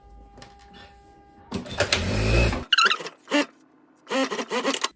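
Sewing machine stitching a seam on a linen garment, a dense mechanical burst running for about a second, preceded by quiet handling and followed by brief voiced sounds.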